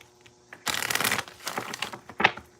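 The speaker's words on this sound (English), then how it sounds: "All right, last shuffle." Tarot cards are riffled close up in a quick burst of flapping and snapping, then a few softer shuffles and a final sharp riffle.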